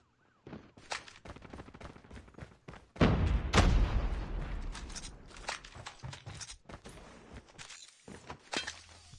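A grenade detonates in a Call of Duty: Mobile match. Scattered shots and footsteps lead into a loud, heavy blast with a rumbling tail, and sporadic gunfire cracks follow as the noise fades.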